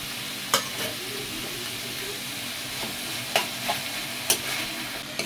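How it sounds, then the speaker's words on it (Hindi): Vegetable bhujji stirred in a frying pan, a continuous close sizzle broken by several sharp spatula scrapes at uneven intervals. "अच्छी तरह से इसको मिक्स करना है"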